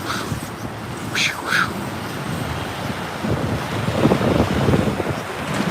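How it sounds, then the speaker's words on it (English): Strong wind buffets the microphone outdoors in Japan, a rough continuous roar rising in gusts, with a few faint voices briefly audible. "It's windy, I understand."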